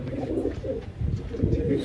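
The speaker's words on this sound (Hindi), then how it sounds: "पीछे देखो भाई कल्सरों का जोड़ कैसे गुटक रहा है।" A pair of Kalsara pigeons, a domestic breed, coo close by in repeated soft, throaty rolling bursts with brief pauses between them.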